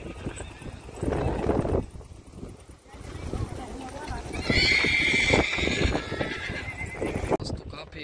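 Sindhi horses gathered at a horse race in Kutch, neighing loudly with a long whinny and clip-clopping hooves nearby, while someone talks over much of it outdoors.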